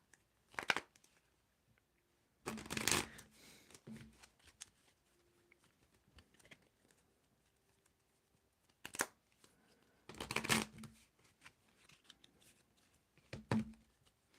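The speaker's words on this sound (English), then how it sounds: "One more shuffle like this" Tarot cards are shuffled close by in several quick, crisp riffling bursts, separated by quiet pauses.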